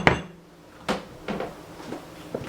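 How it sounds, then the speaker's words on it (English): Silicone muffin pan handled in a home kitchen: a sharp knock at the start, then three or four softer taps and thuds spaced out, close by and fairly quiet, with no talking. "So I'm going to get my pan."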